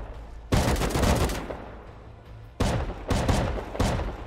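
Shotgun traps in the video game Rust fire in loud blasting bursts, a dense rapid volley at first, then a pause and several more sharp overlapping shots close by.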